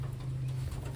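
Pigeons cooing nearby, a low steady throaty coo sustained through the brief moment, with no talk.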